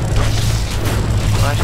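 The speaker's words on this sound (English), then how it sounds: "Flash bomb." A flash bomb goes off in the online game The Secret World, a dense sustained boom with heavy low rumble filling the whole moment, loud and close with no break.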